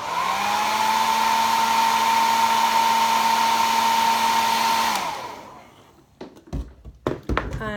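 A dryer blows loudly and steadily for about five seconds to dry paint on a small craft piece, then cuts out and leaves a few light taps and knocks close by.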